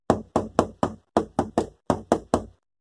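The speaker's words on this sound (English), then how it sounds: "got a knock on the door" Ten sharp knocks rap on a door in quick uneven groups, loud and close, with no voices over them.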